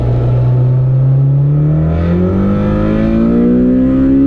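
A Honda Integra Type R VTEC engine revs steadily higher toward 8400 rpm, a loud, rising high-pitched howl climbing without a break.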